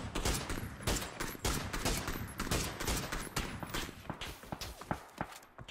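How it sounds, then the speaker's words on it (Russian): Gunfire in a battle royale squad match, with rapid irregular distant-sounding shots and sharp cracks crowding together in a continuous fusillade throughout. "Я не знаю, там кто стреляет."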